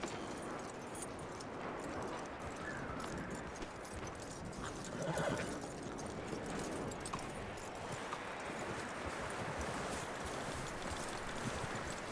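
A horse in Red Dead Redemption 2 snorts and whinnies faintly over a steady, dense bed of hoof clip-clop and outdoor ambience, with no voices.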